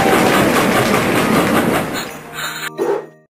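Cartoon train sound effect in a toddler alphabet phonics game, a loud rhythmic clickety-clack rolling for about two seconds before fading into short chimes and a soft tail, with no talking.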